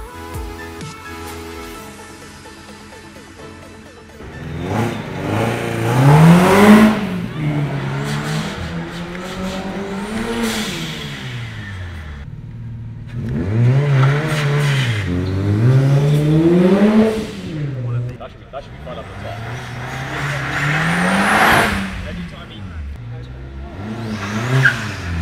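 Classic rally cars, including a Ford Anglia and a very loud Subaru Legacy, rev and drive past at a retro car show, engines rising and falling in several surging passes with a steady rumble between.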